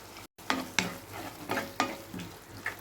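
Bitter gourd is stirred in sizzling masala in a pan, with about six rhythmic scraping strokes over a steady frying hiss, close and clear, with no talking.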